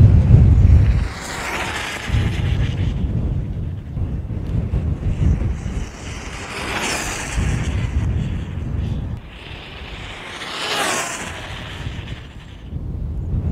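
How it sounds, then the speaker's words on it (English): Strong gusts buffet a microphone outdoors, producing loud rumbling wind noise that surges and eases in waves, with faint whining bursts of a passing RC car underneath. "Oh, so windy. So windy."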